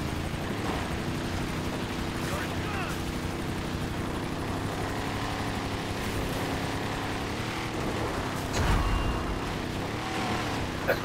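Helicopter rotor drone in a video game, steady and fairly distant, with a continuous low chop and hum running throughout and a brief louder thump near the end.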